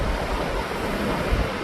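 Waves wash against a rocky, sandless beach in Funchal, Madeira, giving a continuous broadband rush with light wind noise and no voices.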